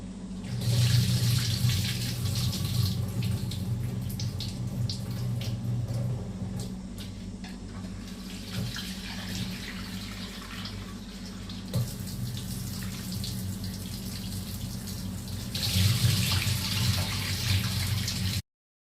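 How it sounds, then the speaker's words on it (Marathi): Soaked urad dal is washed in water with a continuous nearby splashing and running flow, swelling louder at the start and again near the end, with faint clinks throughout. "ह्याला साफ धुवून घेऊया पाण्यात, एका पाण्यात"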